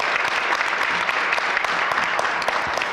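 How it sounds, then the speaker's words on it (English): An audience at a Mayor's Book Club event on public safety breaks into dense, steady applause, many hands clapping together at a strong, even level for the whole stretch, with no speech over it. "So let's give him a round of applause."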